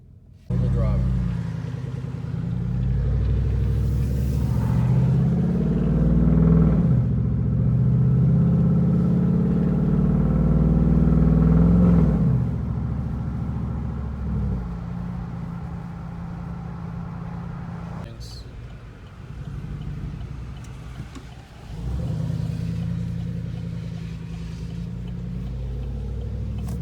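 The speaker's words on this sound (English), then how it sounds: "Here's a warm startup from the inside, windows up." A four-wheel-drive vehicle with true dual exhaust making a warm start, heard from inside the cab with the windows up: the engine fires and settles into a loud, deep idle with a few light revs, and someone talks over it.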